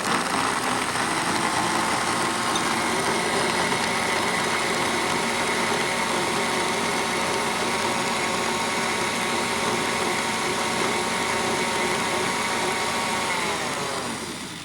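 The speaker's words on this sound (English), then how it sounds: "now we're going to blend this. You want to blend it for a long time, for about a minute." A blender runs steadily for a long stretch, mixing a maple-flavored ice cream mixture with a loud, constant whirring drone that eases off only at the very end.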